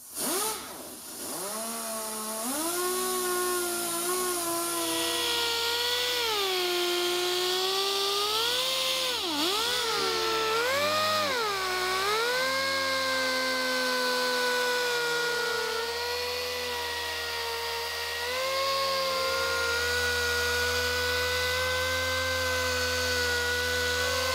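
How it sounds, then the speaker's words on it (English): Power polisher working a sanded car headlight during auto detailing, a loud steady motor whine held throughout that dips and rises in pitch as load on the pad changes, close and continuous with no voices. "At that point, you're left with a raw headlight, that needs to be polished out."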